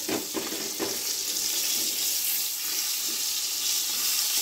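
Water poured into hot spiced oil in a frying pan gives off a hissing, bubbling sizzle with a few sharper spits at the start, then a steady crackle; no one talks.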